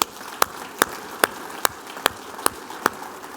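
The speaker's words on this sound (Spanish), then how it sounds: "Démosle un aplauso, por favor." Applause for mothers at a church gathering: slow, evenly spaced single claps, about eight sharp strikes at a steady beat, fairly faint against a quiet background.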